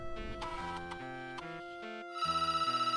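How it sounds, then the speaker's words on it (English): A telephone rings inside a video game as a steady electronic chiming tone with sustained melodic notes, close and moderately quiet, shifting into a brighter pulsing ring near the end. "Oh, phone's ringing."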